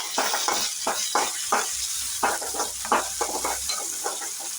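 Idli pieces fried with a little salt are stirred in a pan, giving steady sizzling broken by repeated scraping strokes of a spoon against the pan at an even, fairly close rhythm.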